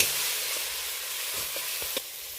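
Spiced masala for a chana dal and soybean curry frying in a pan, a faint steady sizzle with a few soft clicks of stirring near the end.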